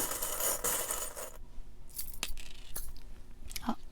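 Tarot cards being drawn and shuffled, with a dense papery shuffling rush in the first second and a half, then several sharp card snaps and light flicks close by, with no talk.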